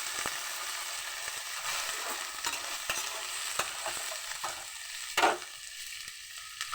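Cauliflower and potato pieces sizzle steadily in a hot pan while a utensil stirs them, making repeated scraping clicks and one sharper knock near the end.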